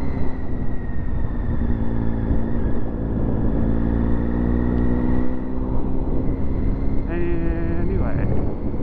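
A motorcycle cruises on a ride out, its engine humming steadily with wind noise close to the rider, a brief higher-pitched whine near the end; a voice is faintly present under the engine.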